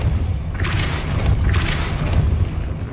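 Hogwarts Legacy Depulso spell impact: two broad bursts of noisy, crashing energy about a second apart over a steady low rumble, booming and forceful, no voices.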